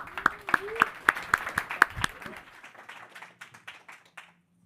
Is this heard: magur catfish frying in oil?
no